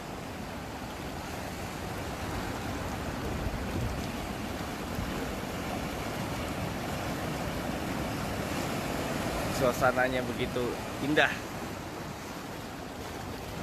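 Big waves roll onto the beach at Karang Hawu on the southern coast, making a constant rushing surf with wind noise over it. A voice talks briefly near the end.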